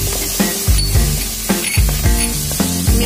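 Kashmiri red chili powder frying in oil on a medium flame, a loud, close sizzle that keeps going, broken by several scraping strokes and faint clinks of a spoon in the pan.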